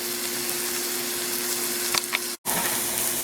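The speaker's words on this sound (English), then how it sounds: "as you can see, it's starting to caramelize these onions" Onions sizzle steadily in a hot pan while caramelizing, a loud continuous hiss with a few brief clinks or stirring scrapes near the end and one momentary dropout.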